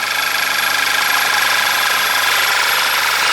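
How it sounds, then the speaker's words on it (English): A steady, loud hiss of air being sucked into a running Audi TT engine through the open dipstick tube, constant and unbroken over the idle hum. "So, can you hear the air sucking in?"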